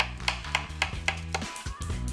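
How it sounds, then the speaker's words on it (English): Knife strokes slicing through mushrooms on a board, about six crisp regular cuts, close and clear over a low musical background. "start the sauce by slicing mushrooms"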